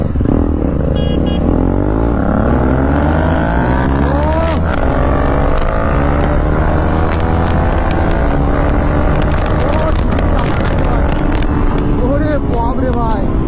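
A Royal Enfield GT 650 and a KTM Duke 390 race, with a loud, continuous engine roar that climbs in pitch through repeated rising revs under steady wind rush.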